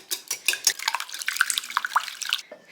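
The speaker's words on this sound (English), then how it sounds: "We are just going to whisk these all together." Rapid whisking of ingredients together in a bowl, a close series of quick clinking and swishing strokes that stop abruptly near the end.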